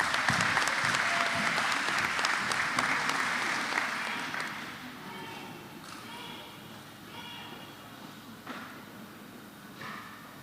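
Applause at a spring commencement ceremony: dense clapping that is loud at first, then gradually fades over several seconds into a quieter room with scattered claps.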